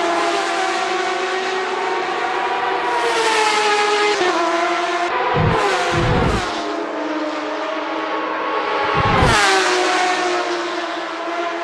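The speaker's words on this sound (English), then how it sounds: "It's a dance of titles, a symphony of engines, and Mr. Bang's tempo is rising." Porsche 911 RSR race cars run at Spa in a wet-weather racing video game. Several engines wail together in a loud, continuous, high-pitched howl, with sharp gear shifts and surging revs as the cars chase one another.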